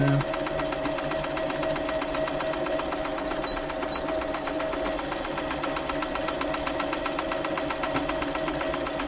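A Brother Super Ace III sewing machine stitching after a service, a steady fast mechanical whir with a rhythmic needle clatter, close and continuous, with a couple of faint clicks partway through.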